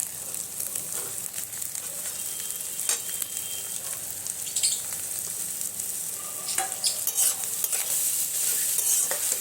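Mashed young jackfruit stir-fries in a pan with a loud, continuous crackling sizzle, broken by repeated scraping stirs and light clinks of a spatula, close and steady throughout.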